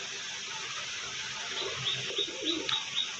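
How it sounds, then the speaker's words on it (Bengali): A pigeon coos softly in a short run of repeated low calls from about halfway through, with faint higher chirps over quiet background noise. "তো বন্ধুরা এই একটা পায়রা দেখুন"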